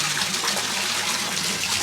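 Steady rushing and splashing of water as pumps start up at a koi pond, a continuous close gush with no pauses.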